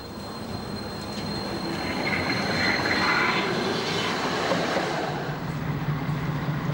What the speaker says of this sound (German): Regelmäßig verlassen die Regionalstadtbahn nach Chemnitz und die Regio Shuttle nach St. Egedin zusammen den Bahnhof Stolberg.